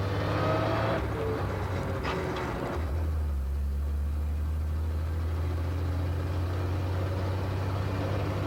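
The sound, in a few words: 1930 International A5 truck engine while driving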